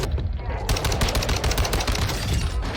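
Rapid single-tap bursts from the STB 556 assault rifle in Warzone 2, a dense string of loud, close shots firing in quick succession throughout, with a voice faintly underneath.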